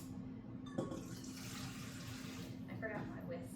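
Pre-warmed water, two cups, poured into a mixing bowl while making braided pretzel dough; a steady running-water wash lasts throughout with a brief splash near the start and a voice speaking softly over it.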